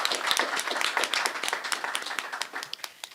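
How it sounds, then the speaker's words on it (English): A small group at a board of education meeting applauds, brisk claps close by that thin out and fade toward the end. "a round of applause to the board for this support"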